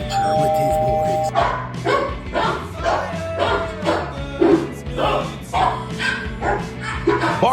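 A dog barks repeatedly in uneven bursts close by, mixed with other dog-noise sounds and a ringing tone, while people talk and laugh over it.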